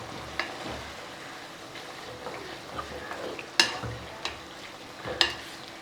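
Beef simmers in gravy for Kerala beef mappas with a low bubbling sizzle, while a spoon scrapes and knocks against the pot a few times, sharp and close, with no one talking.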